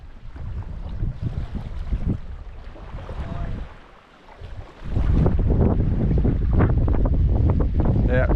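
Strong wind buffets a fishing boat at Pambula, a steady broadband rush with gusts that swell louder toward the end, and faint voices mixed in underneath.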